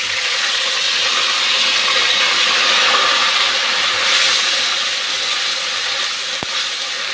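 Onion paste sizzling steadily in hot oil in a pan, a loud, continuous broadband hiss that holds for the whole stretch with a brief sharp click near the end, no voices.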